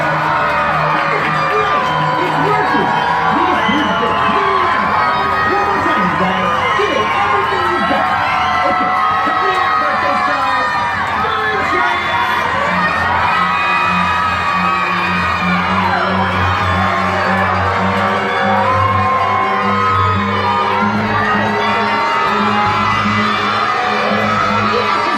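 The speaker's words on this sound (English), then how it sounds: "Then everybody will all cheer." Children at a birthday party cheer, whoop and yell together in a loud, sustained crowd roar that fills the whole stretch, with excited shouts rising and falling throughout.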